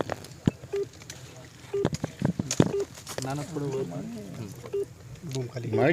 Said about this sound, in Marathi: त्यांना फोन लावलेला आहे